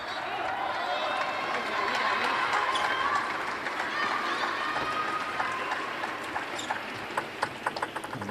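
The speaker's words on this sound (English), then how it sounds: "No guessing who the crowd is up for here." A table tennis crowd in Doha cheers during a doubles final, a broad roar that swells early and then thins into scattered claps, with a commentator talking over it.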